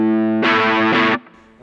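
Electric guitar through a JHS Kilt V2 distortion pedal, giving thick amp-like overdrive: a clean sustained tone, then a loud, fuzzy distorted chord that rings for under a second before cutting off into a faint decay.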